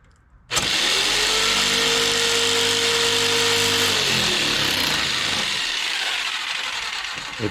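A power tool cuts a custom Segway windshield, kicking in suddenly with a loud, sustained whine that holds steady with a tonal hum, then shifts and tapers slightly near the end, close and alone.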